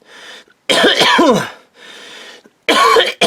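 Several harsh, close coughs in quick bursts, a couple of quieter breaths or throat sounds between them.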